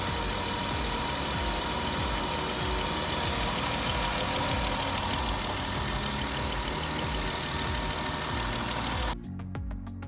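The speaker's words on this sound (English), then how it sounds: "started right up. Great sounding motor, super smooth." A Jeep Wrangler engine idling smoothly after a new battery and starter were fitted, a steady close rumble with an even low pulse that holds for about nine seconds before dropping abruptly to a quieter hum.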